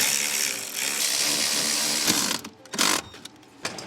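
A hand ratchet with a straight extension turns steering column bolts on a BMW E90/E92, giving a quick run of close, loud clicks followed by a few shorter bursts of ratcheting and pauses.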